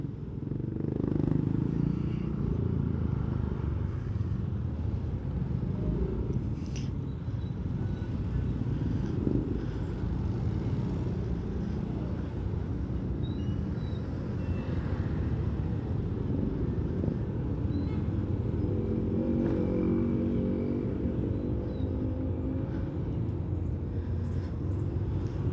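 Steady road traffic rumbles by for the whole stretch, with cars and motorcycles passing at a moderate distance, broad and constant and at a modest level, with no talking.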